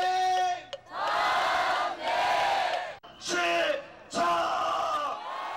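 Citizens gathered at Yeouido at night chant against the Iraq war and troop dispatch, a large crowd roaring in long, loud unison bursts separated by brief pauses, with a lead voice calling out between them.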